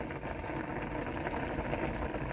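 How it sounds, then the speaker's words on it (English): Jasmine rice boils steadily in a pot, a dense continuous bubbling and popping that stays level and close throughout, with no voices over it. "So you hear the boiling, you're seeing the rice boil."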